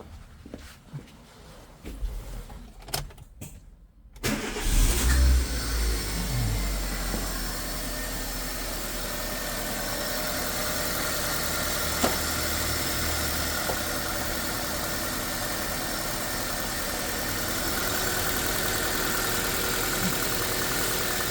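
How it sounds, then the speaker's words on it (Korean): A car engine cranks and catches after an intake manifold has been loosely reassembled, then settles into a steady, loud idle with a low rumble and slight knocking vibration that carries on without any talking. "시동 먼저 걸어 보겠습니다"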